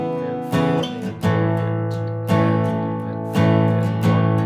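Acoustic guitar strums the verse chords of a song in a steady rhythm, with clear accented downstrokes marking each change, close and unaccompanied.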